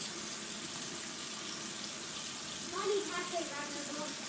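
Tap water runs steadily into a sink as hands are washed indoors, a soft continuous hiss with a brief splashy swell near the end, fairly quiet and without speech.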